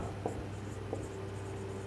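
Pen writing on paper while working a math problem, soft faint scratching strokes with a couple of light taps, close by and alone.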